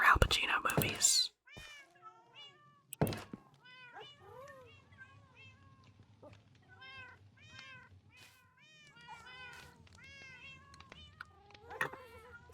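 Cats in the Minecraft video game meowing repeatedly, short high mews scattered throughout, some close and some softer, under a quiet whispering voice.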